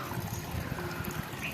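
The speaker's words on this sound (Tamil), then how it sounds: "தொட்டியில் தண்ணி போயிட்டுருக்கு." Water running steadily into a garden tank, a soft continuous trickle and splash at low level with no voices.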